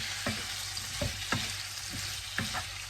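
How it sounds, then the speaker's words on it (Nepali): Cauliflower and buffalo meat curry fries on high heat with a steady hiss, broken by several soft clinks and scrapes of a spoon stirring the pan at irregular intervals. "अब चाहिँ जति सक्दो योलाई हाई हिटमा पकाउने।"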